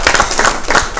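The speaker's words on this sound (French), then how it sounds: "On évolue ensemble, on applaudit pour l'OCRE" Morning TV show audience in a studio applauding in a short, dense burst of clapping close by, with no talk over it.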